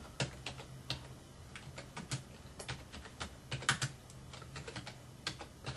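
Close, quiet clicking of a computer keyboard as text is typed, irregular bursts of keystrokes with short pauses, alone in a faintly humming room.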